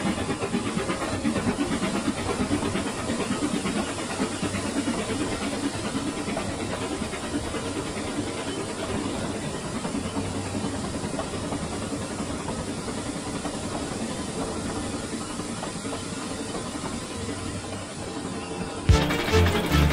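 A steam locomotive's cylinders labor steadily while hauling a long train, with a continuous hiss and rumbling chuff, heavy and unbroken, ending in a sudden louder burst.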